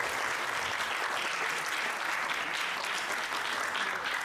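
An audience clapping at a meet-and-greet event for the Gala Siswa Indonesia 2025 training center, a full, even wash of applause that holds steady for the whole stretch at moderate loudness.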